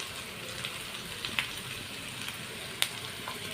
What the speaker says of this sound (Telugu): ఇంకా మధ్య మధ్యలో ఆనియన్స్ని ఫ్రై చేస్తూ ఉండాలండి